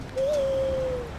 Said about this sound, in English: Call my owl friend.